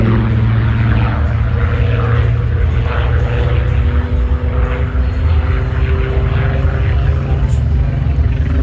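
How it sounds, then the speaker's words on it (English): A Supermarine Spitfire Mark 19 at an airshow in Ayr gives a loud, steady, close engine drone with a deep rumbling propeller tone that holds without a break. "The Spitfire Mark 19 631 is built and ready."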